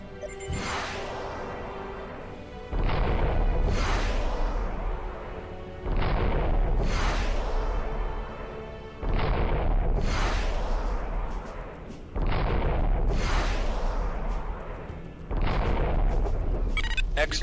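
Interceptor missiles from FreeSpace fire at a freighter in about five heavy, booming volleys, each a loud launch blast that rolls off before the next, evenly spaced and close.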